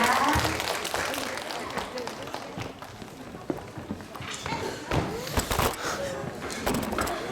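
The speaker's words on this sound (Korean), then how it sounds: "다시 한번 격려의 박수 부탁드립니다" A church congregation at an Easter Sunday service claps in encouragement, a moderate, uneven spatter of clapping mixed with shuffling steps and stage movement, with a voice speaking at times.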